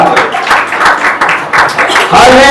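A congregation at a Sunday church meeting claps hands together in bursts of rapid clapping, loud and close, mixed with someone speaking over it.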